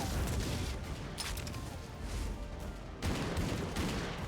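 Sustained volley of rifle-length guns fired one-handed in the video game Final Fantasy XIV, dense overlapping shots and booms running loud and continuous with no voices over it.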